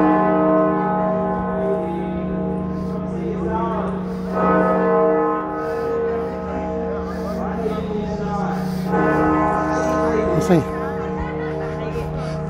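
A deep, sustained 10-ton tower bell chiming the hour in Nottingham city centre hums beneath chatter and laughter, its long resonant ring lingering steadily across the whole stretch.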